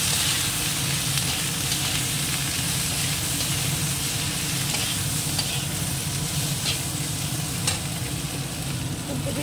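Spices with turmeric and a little chilli powder, then cauliflower, sizzle and get stirred in a hot pan, a steady close frying hiss with occasional scraping clicks throughout.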